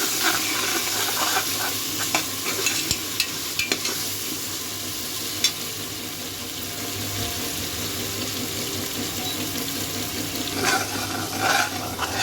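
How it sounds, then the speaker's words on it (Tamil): Ginger garlic paste stirred and frying in hot oil for a home-style biryani, a steady close sizzle with repeated scraping stirs and occasional clinks of the spoon against the pot throughout. "இந்த இடத்துல நம்ம வந்து இஞ்சி பூண்டு போட்டு சேர்த்துக்கலாம். நல்லா கலந்துடுங்க."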